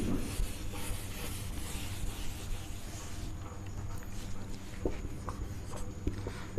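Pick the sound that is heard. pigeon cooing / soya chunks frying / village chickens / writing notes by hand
writing notes by hand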